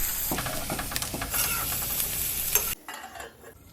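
Bitter gourd hits a hot tempering of oil with asafoetida, turmeric and white sesame, giving a loud, close sizzle with stirring scrapes that cuts off abruptly to a faint hiss near the end.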